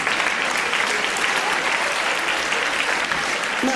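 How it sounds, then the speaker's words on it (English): A television audience applauds a former nurse, giving a dense, even round of clapping that holds steady throughout the short stretch, close and fairly loud. "give a big round of applause"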